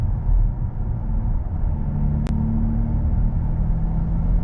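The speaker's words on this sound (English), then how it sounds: "If I'm at a higher RPM and I try to downshift, you can hear it goes up." A car with an automatic transmission shifted manually, downshifting so the engine speed rises: a steady low engine rumble and drone heard from inside the cabin, with one sharp click partway through.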